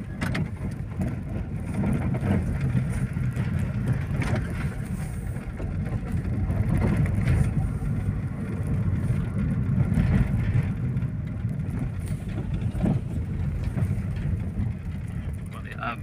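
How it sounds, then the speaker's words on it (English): Steady road traffic rumbles past on a street with big potholes, a continuous low roar of vehicles with occasional louder swells, heard nearby and unbroken for the whole stretch. "some bit of traffic here."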